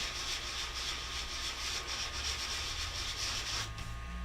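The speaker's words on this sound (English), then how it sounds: "just sand off the top of your embossing, or sand off the alcohol ink" Sandpaper rubbing alcohol ink off glossy synthetic Yupo paper, a steady close scratchy hiss with soft rhythmic strokes and no talking.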